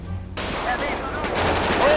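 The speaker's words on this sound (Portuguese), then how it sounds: "eles deram tiro na polícia" Gunfire in GTA V roleplay as players shoot at police, a burst of rapid game shots sounding over loud background noise, with broadband cracks filling the second half at close range.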